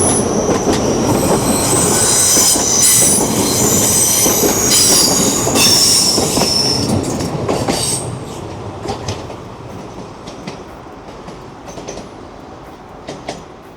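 Train passing through Manors station in Newcastle, a loud rumble and rattle of wheels with high squealing near the start, fading gradually as the train moves away.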